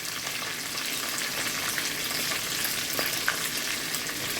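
Steady loud sizzling from chicken browning in a pan for brown stew chicken, with occasional sharper pops and crackles and no voices.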